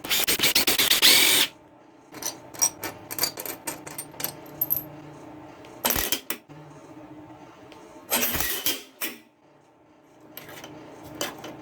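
A power tool zips loose bolts out of a battered lawnmower engine in a few short, loud whirring bursts, separated by quieter clicks, taps and handling of small metal parts.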